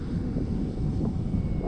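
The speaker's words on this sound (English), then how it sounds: "So I'm going to bring the plane right at me, and then I'm going to kind of turn towards the runway." An E-flite Clipped Wing Cub RC airplane flies overhead, its electric motor giving a steady, moderately loud drone mixed with some wind rumble. There is no speech.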